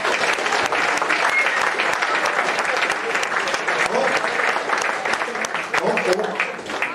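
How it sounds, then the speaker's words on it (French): Dense audience applause after a stage performance at a judged show, loud and continuous clapping filling the space from start to finish with a few voices mixed in. "il mérite encore un bon applaudissement pour notre belle performance"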